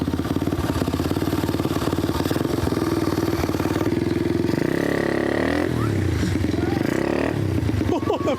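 A restored pit bike engine, rebuilt from a rusted wreck, runs loud and close as it warms up, chugging at a steady idle before its revs shift and rise briefly.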